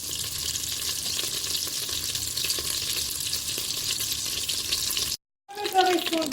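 Butter melts and sizzles inside a Cookeo multicooker pot before rabbit goes in, a steady close hiss that cuts off briefly near the end and resumes with clattering movement.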